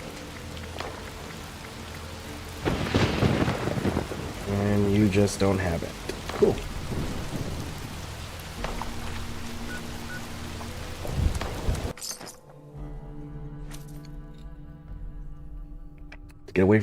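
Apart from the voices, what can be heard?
thunderstorm with rain in Fallout 76 video game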